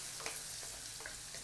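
Curry leaves sizzle in hot oil as a tempering for a seer fish curry. The frying is soft and steady, with faint crackles throughout.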